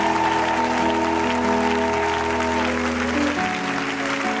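Congregation in church clapping continuously in a steady, dense burst, with a sustained tonal hum or music underneath and faint voices, moderately loud throughout.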